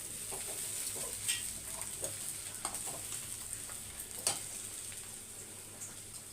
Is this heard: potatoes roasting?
yes